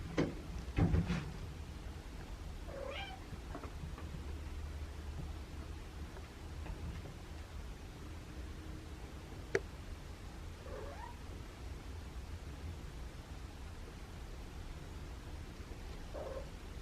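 A few faint, scattered meows from feral cats over a quiet, steady background hiss, with long pauses between calls.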